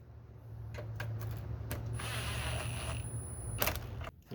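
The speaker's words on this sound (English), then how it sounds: "I'm just going to run that nut down." A nut is run down on a Subaru automatic transmission during a fluid filter change, giving a close mechanical whir with brief clicks and a steady high whine before it stops short.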